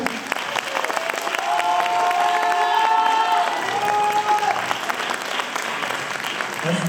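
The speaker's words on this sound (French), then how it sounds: "elles méritent beaucoup d'applaudissements s'il vous plaît" Audience applauding and cheering after a dance show, dense clapping with whoops and a few raised voices throughout, loud and close.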